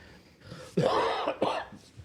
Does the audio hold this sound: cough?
yes